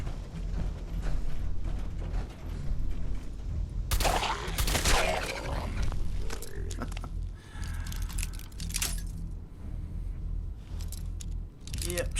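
Gunfire aimed at hostile robots in Fallout 4's Automatron add-on, a dense mechanical clatter of shots and metallic impacts with a loud burst of blasts midway, over steady game background noise.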